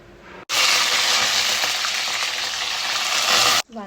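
Chopped eggplant drops into hot oil already crackling with mustard seeds and cumin, setting off a sudden loud, sustained sizzle close by that runs about three seconds before cutting off abruptly, with no talking.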